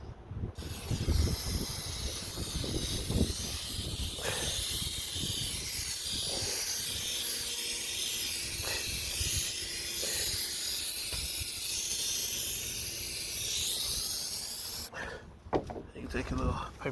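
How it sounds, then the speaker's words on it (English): Aerosol adhesive hisses from a can onto the chrome door molding of a 2000–2004 Chevrolet Suburban in a long, close, steady spray, with softer handling noises and faint talk around it. "I just spray it on there real good."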